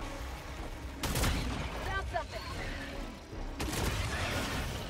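Crossbow shots in Helldivers 2 land as two loud, separate bursts a few seconds apart over steady game background noise, with a few faint mechanical tones between them.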